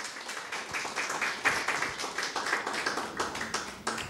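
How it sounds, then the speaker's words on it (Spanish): A church congregation claps in praise after a scripture reading, a steady dense patter of many hands close by with no voices over it. "Dale ese fuerte aplauso al Señor."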